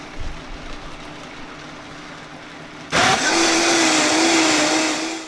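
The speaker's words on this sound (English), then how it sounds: "once I know the combustion is worked out of the blender, I'm going to go ahead and transfer to a higher speed" After a few seconds of quiet room noise, a blender suddenly roars to life and keeps whirring loudly at a steady high speed, pureeing Romanesco cauliflower soup.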